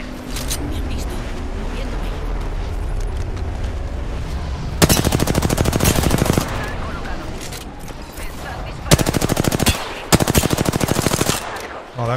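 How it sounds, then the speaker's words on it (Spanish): Automatic weapon fire in the video game Apex Legends rattles out in loud, rapid bursts: a long volley, a short one, then another long burst, separated by quieter stretches of game ambience. "Me están disparando."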